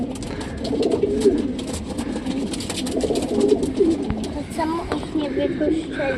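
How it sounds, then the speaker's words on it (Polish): Pigeons coo softly and repeatedly at close range in a cage at a pigeon racing picnic, with people talking over the birds and a busy background murmur. "Gołębie są w kabinie."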